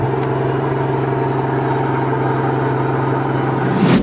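A V12 Mercedes engine at high idle after a cold start, a steady loud even drone holding for about four seconds, then a brief swell near the end.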